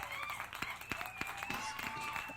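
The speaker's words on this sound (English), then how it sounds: "That was the funniest clap." A few people clap unevenly on a podcast recording, sparse sharp claps spaced out over a couple of seconds while voices talk over them.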